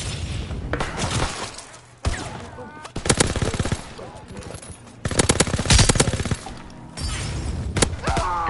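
Submachine gun bursts in Call of Duty WWII, loud rapid automatic fire in several separate bursts with brief pauses between, mixed with game explosions and clatter.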